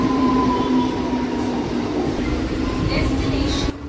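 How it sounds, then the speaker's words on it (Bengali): A Howrah-bound suburban local train pulls out of Ramrajatala station with a loud, steady rumble and a sustained whine heard from on board, then drops suddenly quieter at the end. "আমাদের ট্রেন এখন রামরাজাতলা স্টেশন ছেড়ে সামনের দিকে এগোচ্ছে দাসনগর স্টেশনের উদ্দেশ্যে"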